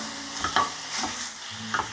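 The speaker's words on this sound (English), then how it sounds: "while our sausage is starting to brown up" Breakfast sausage browning in a pan makes a soft, steady sizzle, with a few light scrapes and taps of a utensil nearby and no voices.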